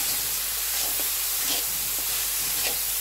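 Onion, garlic and ginger paste frying in oil, giving a steady close hiss and sizzle with faint stirring scrapes, no talking.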